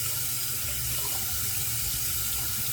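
Steady rush of water running from a bathroom tap into a sink for rinsing after a shave, continuous and close with no talk.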